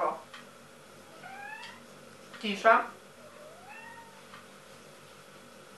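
A cat meows several times in rising, drawn-out calls, with a louder, harsher yowl in the middle, heard close and clear indoors; someone speaks briefly at the start.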